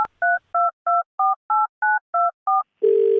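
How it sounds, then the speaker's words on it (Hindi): A telephone keypad dials a number, eight even touch-tone beeps in a steady rhythm, followed by a sustained tone, loud and close with no voices. "फोन मिलाओ।"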